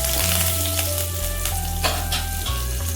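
Bay leaf, mustard seeds, cumin, dried red chilli and curry leaves fry in hot oil in a pan, giving a loud, steady close sizzle with crackling pops and no talk.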